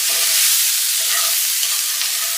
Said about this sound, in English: Our onions are cooked down nice